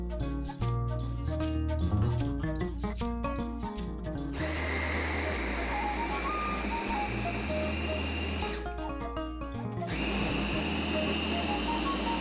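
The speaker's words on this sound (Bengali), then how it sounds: "গতকাল রাতে ছোলার ডাল ভিজিয়ে রেখেছিলাম আর এখন এগুলোকে সব ব্লেন্ড" Kitchen blender grinding soaked chickpea dal in loud whirring bursts that stop and restart, the motor note shifting as the batter thickens.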